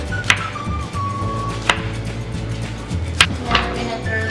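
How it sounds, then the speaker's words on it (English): Knife cutting peeled plantains into slices on a board, four crisp knocks spaced about a second apart over a low steady background hum. "you're going to go ahead and cut them into slices"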